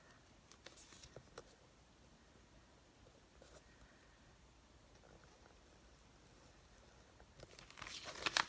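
Paper is cut around a postcard for a collage, giving soft, faint, close-up crinkling and snipping in sparse bursts, with a busier flurry of cutting near the end.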